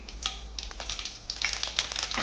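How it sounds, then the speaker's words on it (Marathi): Mustard seeds splutter and crackle in hot oil in a home kitchen, a busy, close-up stream of small sharp pops and sizzles over a low steady hum, with no talking. "मोहरी छान तडतडली"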